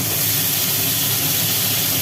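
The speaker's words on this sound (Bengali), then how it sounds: "এবার পড়ে গেল কেটে রাখা আলু" Diced potatoes drop into hot oil seasoned with black cumin (kalo jeera) in a kadai, giving a loud, steady broadband sizzle and hiss with no talking.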